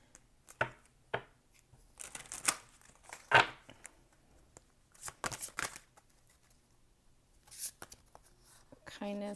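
Tarot cards being shuffled rustle in short, crisp bursts, a few riffles and snaps spaced across the clip, close by and fairly quiet.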